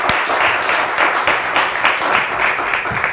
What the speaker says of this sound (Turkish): Alkışlar Eylem Hanım için.